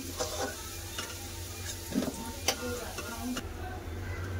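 Potatoes with salt and turmeric fry in mustard oil, a continuous crackling sizzle broken by sharp utensil clicks and scraping stirs, close and fairly busy, easing slightly toward the end.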